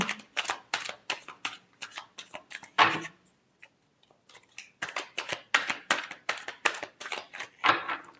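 A deck of tarot cards is shuffled up close, with rapid crisp riffling flicks in repeated bursts, a brief pause partway through, then more quick card slaps and riffles, fairly loud with no voices.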